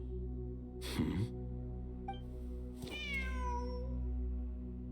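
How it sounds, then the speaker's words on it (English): Cat meowing in a desert-themed video game, two distinct mid-length meows about two seconds apart, the second rising and sliding down, over a steady low game music and ambience bed. "It's a kitty!"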